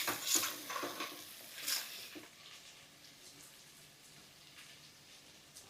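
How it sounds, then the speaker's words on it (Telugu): Vegetables for a coconut pulao fry lightly in a pan while being stirred, giving soft sizzling with a few scraping strokes of the spoon early on, then a quiet, low simmer. "కాయగూరి వేగనివ్వండి, లైట్గా ఫ్రై అవ్వనివ్వాలి అంతే."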